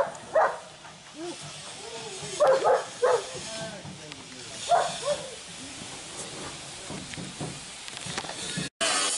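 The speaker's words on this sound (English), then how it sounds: "get the dog to play with him" A dog gives a handful of short barks and yips in a garage or workshop where a rat rod is being built on a Willys truck. People talk loosely around the barks and there is background hiss.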